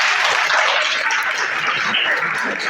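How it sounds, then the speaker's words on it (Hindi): Loud, steady clapping from a classroom of students applauding a classmate, a dense continuous patter lasting a few seconds with no voices over it. "इनके लिए जोरदार तालियां"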